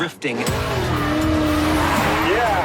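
A car drifting on a dry track at Alameda, engine roaring loud and close with a long sustained tire squeal that rises in pitch near the end.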